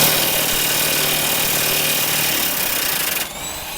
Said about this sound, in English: I'm just gonna hit this thing on kill and use the impact